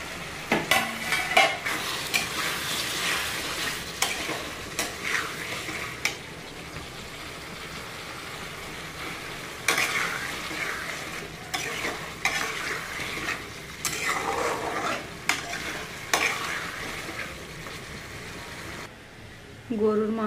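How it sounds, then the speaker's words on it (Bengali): Beef and chopped tomatoes are stir-fried in a pan, with bursts of spatula scraping and stirring over a continuous sizzle that rises and falls in uneven clusters. "গরুর মাংসটা প্রায় কষানো হয়ে গেছে।"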